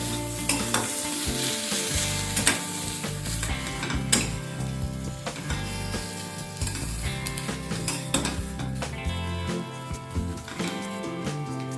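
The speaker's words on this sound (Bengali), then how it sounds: "এবার আবারও অল্প সময় নিয়ে ধনেপাতার সাথে সমস্ত কিছু একবার ভালোভাবে মিশিয়ে নেব" Shrimp bharta with freshly chopped coriander is stirred in a pan, giving a steady scraping, stirring texture with a faint sizzle under a continuous background of music.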